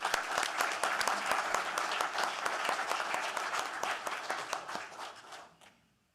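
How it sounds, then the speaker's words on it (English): An audience at an Arkansas Game and Fish Commission award ceremony claps steadily for a few seconds, a dense patter of many hands that thins and fades out toward the end. "Y'all give them a round of applause."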